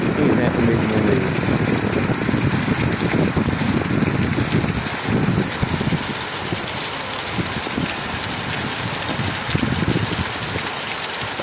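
Torrential rain and strong wind in Tabuleiro do Norte, Ceará, form a loud, continuous roar with wind buffeting the microphone across the whole stretch.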